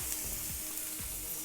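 Two green chillies sizzle in hot oil in a pan while mutton pepper fry is cooked, a steady loud crackling hiss with faint stirring, no voices.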